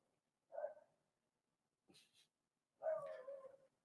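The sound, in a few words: small dog barking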